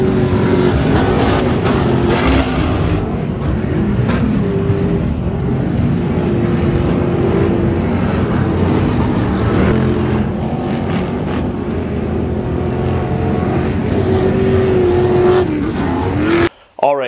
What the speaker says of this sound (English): And now we're here racing Christopher for the last race of the season